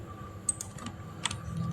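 A few quiet, scattered keystrokes on a computer keyboard, clicking close by in a sparse irregular rhythm while a medical report is typed.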